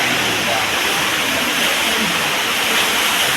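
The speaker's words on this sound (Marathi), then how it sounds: "आता पाऊस वरती चालू आलाय जोरात आणि वॉटरफॉल सुद्धा जोराने कोसळतोय" A waterfall near Khopoli crashes heavily in the rain, a loud, dense, unbroken roar close by with no pauses.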